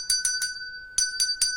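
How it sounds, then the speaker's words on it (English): A small handheld bell struck six times in two bursts of three, each ring bright and sustained with a steady lingering tone, close and clear against a quiet background, used in an energy-clearing ritual. "We've got a little bell here, we'll just use it just to clean"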